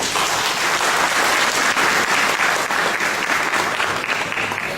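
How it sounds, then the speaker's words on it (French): A large crowd at a mutual society's presidential election gives loud, sustained applause, dense clapping filling the hall throughout. "applaudissez-vous"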